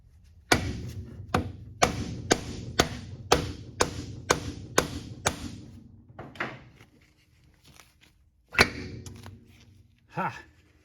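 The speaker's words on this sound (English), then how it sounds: "so I'm going to pop it with a hammer" A hammer strikes sharply about ten times in a quick, even series, knocking an axle into the rear differential of a Yamaha YXZ, followed by scattered quieter taps, one last hard blow and a brief grunt.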